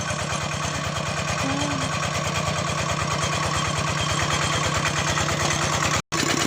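A plough tractor's engine runs steadily in a field, a continuous loud, even chugging with a regular low pulse that holds unchanged before cutting out briefly near the end.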